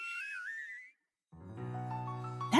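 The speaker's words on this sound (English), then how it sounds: "That is a very weird whistling." Odd whistling in the video game Punishing: Gray Raven: a warbling high whistle fades out, a short silence follows, then layered tones swell in and rise to a loud, bright flourish at the end.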